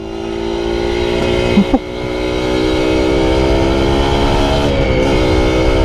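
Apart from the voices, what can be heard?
motorcycle engine revving, clutch slipping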